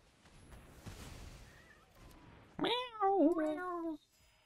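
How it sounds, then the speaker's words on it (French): A single cat meow sound effect from a Brothers' War draft in a digital card game rings out loud and clear with a rising then falling pitch, following a stretch of low, murky background noise. "vachement plus sympa le bruit du chat"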